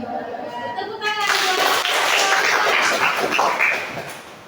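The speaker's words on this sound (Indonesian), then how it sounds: "Tepuk tangan." A group of children in a classroom claps together after a teacher's prompt, a dense burst of clapping rising after a moment of voices and holding steady before tapering off.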